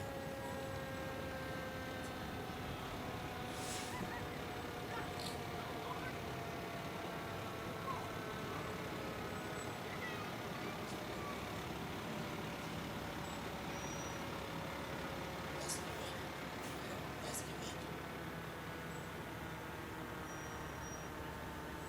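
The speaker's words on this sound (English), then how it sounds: "Engine 1 from the Culpeper County Volunteer Fire Department." Engine 1 of the Culpeper County Volunteer Fire Department rolls by in an annual firemen's parade, heard as a faint, steady, distant engine drone with a few thin tonal lines throughout.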